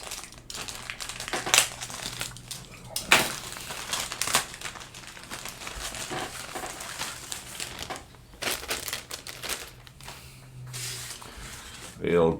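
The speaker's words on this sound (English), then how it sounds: "now we really should start opening bags a bit" Plastic bags of parts from a Hudson Hornet model car kit crinkle and rustle as they are handled and torn open, in bursts over steady nearby talking.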